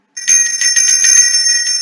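A bright notification bell rings loud and alone, with a quick series of metallic rings over a sustained ringing tone.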